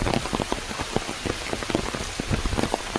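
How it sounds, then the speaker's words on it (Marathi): Rain falling outdoors over fields and water: a steady, close patter of drops striking surfaces, dense and continuous throughout. "मस्त असं पाऊस पडता"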